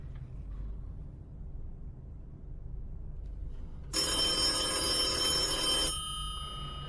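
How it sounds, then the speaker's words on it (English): Telephone bell ringing loudly for about two seconds in a single sustained burst, rising out of a low room rumble and then stopping, with no talking around it. "It's about damn time that phone rang."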